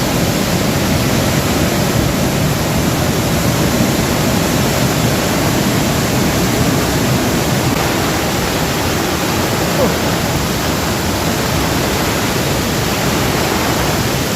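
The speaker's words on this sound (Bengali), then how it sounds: "জল এখান থেকে নামছে" A powerful waterfall in Cherrapunji roars in a dense, steady broadband rush of falling water that stays loud and unbroken throughout, with no voices heard.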